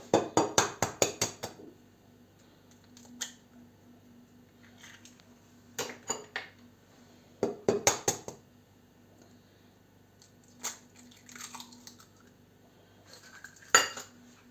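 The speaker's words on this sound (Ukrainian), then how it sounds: "Пюре просто так вилочку розмішити і все" A fork clinks and scrapes in bursts against a bowl while pumpkin puree, sour cream and two eggs are mixed for pumpkin crescent rolls, the clatter coming in short close clusters separated by quiet pauses.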